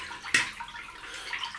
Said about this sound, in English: dip it in the cold water in the sink